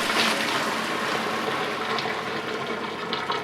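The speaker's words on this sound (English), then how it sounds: "we'll go ahead and strain this right away, but make sure to keep some of that water." Hot pasta cooking water pours out through a strainer in a home kitchen, a steady loud gushing splash that runs unbroken throughout with no talking.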